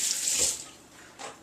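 About eight ounces of water running or being poured for a smoothie, a bright splashing rush that eases off, then a brief second gush, close and fairly loud.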